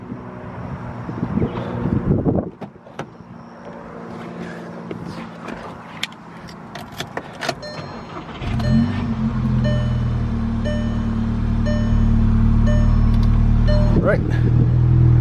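A VW Jetta MK6 engine starts after a serpentine belt replacement: a person talks over some clattering handling noises, then the engine cranks, catches and settles into a loud, steady idle close by, with a brief extra rev near the end.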